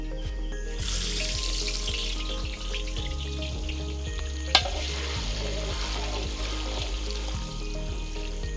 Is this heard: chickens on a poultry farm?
no